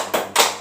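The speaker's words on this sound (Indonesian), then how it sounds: "Sekarang kita beri tepuk salut untuk Mbak Vina" A 'tepuk salut' classroom clap during a civics teaching practice, two sharp hand-clap bursts close together, loud and near, with no talk.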